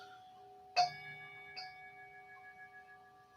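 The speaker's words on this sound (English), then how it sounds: "the sound of the bell" A meditation bell is struck once, close and clear, ringing out in a long, softly fading tone with a lighter second touch partway through, in a quiet room.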